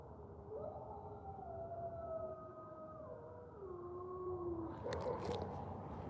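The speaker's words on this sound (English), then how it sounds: "the Malamutes barking in the house" Alaskan Malamutes howl in long, wavering, overlapping tones that rise and fall together, fairly faint and distant as though heard from inside a house, with a brief burst of barking near the end.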